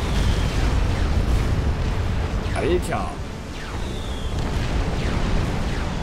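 Loud rumbling booms and bursts of bomber explosions in the strategy game Supreme Commander roll on continuously, with a dense low roar and someone speaking briefly in German over the din.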